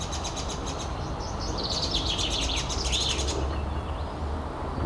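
Small birds in a Moscow park give sharp, rapid alarm chirps while mobbing a predator, the calls thick and overlapping for several seconds before thinning, over steady loud background noise.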